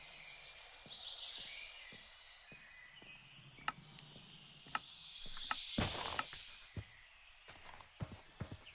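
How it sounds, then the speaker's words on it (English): Birdsong in the Minecraft Create Mod game world, shrill chirps and calls repeating over a soft ambient bed, with sharp clicks and taps of block actions scattered throughout and no talking. "the birds are kind of obnoxiously loud"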